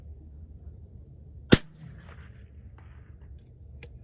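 A single sharp crack of a Vudoo V-22 rifle firing over a chronograph, close and sudden against a quiet outdoor background, followed by faint faraway echoes and small clicks.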